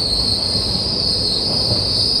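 Inside the 16116 Puducherry–Chennai Egmore (PDY MS) Express running in darkness, wheels squeal in a steady high-pitched whine over a constant low rumble of the moving carriage.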